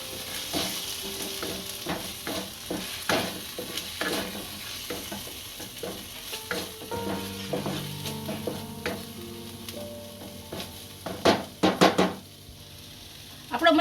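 Methi and green tuver curry sizzles in a pan as garam masala and salt are stirred in, a spoon scraping and tapping the metal in repeated strokes, with a few sharper clanks near the end.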